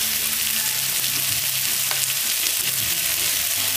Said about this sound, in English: I put the onion in the middle because I want the onion to saute